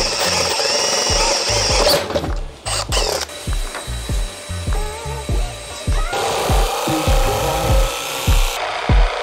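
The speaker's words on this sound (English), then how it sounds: "We're gonna cut a little 12 mil drill hole and then start routing the edges all around here." A router cuts along the edges of a wooden cabinet door during a renovation, a loud continuous high whine with rhythmic low pulsing thumps throughout, briefly dipping before resuming.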